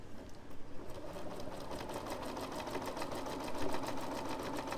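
A sewing machine stitches a blind hem on rolled-over fabric, a close, steady rapid whirring pulse running evenly throughout.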